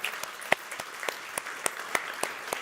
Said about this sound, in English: I think we should give our friends online a great round of applause.